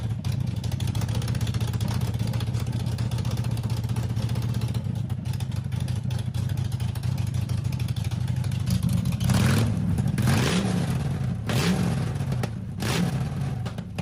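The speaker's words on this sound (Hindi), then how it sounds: "इंजन को स्टार्ट करने के बाद भाई मैं यहाँ पर इंजन की बेल्ट देख रहा था भाई।" A BMW 3 Series engine idles steadily and evenly up close, with a constant low hum and faint mechanical clatter that runs throughout, joined by a few brief sharp knocks near the end.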